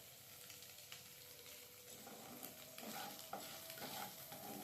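Egg bhurji stirred and fried in a pan, a steady soft sizzle with spoon scrapes and stirring strokes growing a little busier toward the end, close and quiet with no talking.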